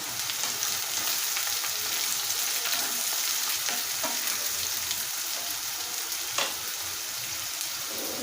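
Onions and green chillies for a mushroom curry sizzle steadily in a pan, a close, continuous frying hiss broken by occasional stirring scrapes.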